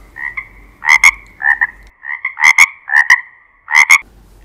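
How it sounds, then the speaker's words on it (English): Several frogs croak in close, loud bursts, each call a quick double or triple pulse, repeating in a steady rhythm with short pauses between calls. "Frogs croak."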